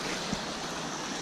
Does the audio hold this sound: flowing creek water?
yes